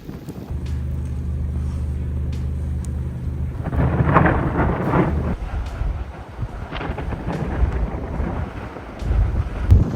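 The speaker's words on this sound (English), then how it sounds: "During a blizzard in Buffalo, thunder suddenly rolls" Thunder rolling during a blizzard in Buffalo, a deep low rumble that swells midway and lingers over steady wind noise, with a heavier boom near the end.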